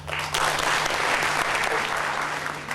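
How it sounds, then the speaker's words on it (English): Audience applause in a lecture hall during a spiritual talk, a broad wash of many hands clapping together for nearly three seconds, steady and fairly loud, with no talk over it. "Now suppose I ask you to clap So you can clap. Please clap."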